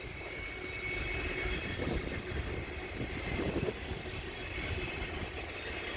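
CN freight train passing on the Dundas Subdivision in London, Ontario in December, an eastbound train from Markham Yard in Homewood, Illinois bound for Brampton: a steady, continuous rolling rumble with wheel and rail noise, heard from a moderate distance.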